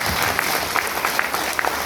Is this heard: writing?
no